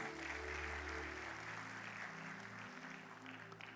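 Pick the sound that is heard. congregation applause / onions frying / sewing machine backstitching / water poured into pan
congregation applause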